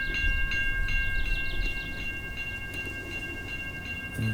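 A freight train rolls past at close range, its steady rumble joined by rhythmic wheel clatter and sustained tonal whine, louder at first and easing slightly before a thump at the end.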